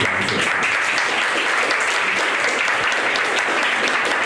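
Steady applause from an audience fills a Taichung forum on local farmland issues, a dense, continuous clapping that stays loud and even throughout with no pauses.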